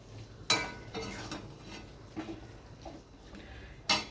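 A spoon stirs ground garam masala in a cooking pan for a cauliflower mince dish, giving a few scattered scrapes and metallic clinks against the pan, close and fairly quiet, with no voice.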